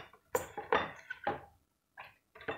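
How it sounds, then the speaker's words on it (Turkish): Fresh green beans tumble into a pot in a few quick clattering bursts, dry knocks and rattles of beans against metal separated by short pauses, close and alone. "Fasulyemi koyacağım arkadaşlar üzerine."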